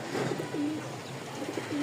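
Several newly arrived fancy pigeons, including red and white pairs, give low repeated coos at moderate volume, a few rolling calls spaced through the moment over a constant background hiss.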